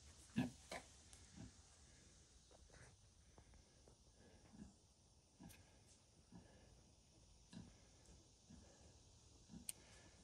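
Kunekune sow and her newborn piglets in a barn, with faint scattered grunts and snuffles, soft clicks and shuffling, all quiet and somewhat distant.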